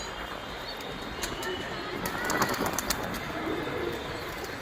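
Pigeons flutter and coo around a rooftop loft, soft and moderately close, with faint wingbeats and bird calls over a steady background hiss.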